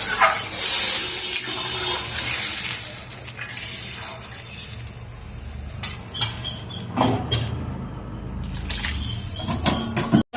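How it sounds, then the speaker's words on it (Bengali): Water poured into a pan of fried spiced potatoes for a thin magur fish curry, a gushing pour and bubbling hiss that fades, then a few scrapes and clatters near the end, fairly loud, with no voices. "এবার আমি জল দিয়ে দিলাম"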